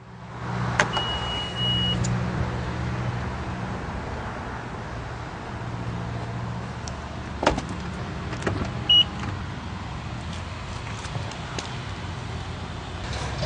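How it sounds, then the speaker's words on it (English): Power liftgate on a 2018 Honda CR-V EX-L closing at the push of a button, a steady motor hum lasting several seconds with faint clicks and a soft latch near the end, no talk. "The power liftgate closes with the push of a button."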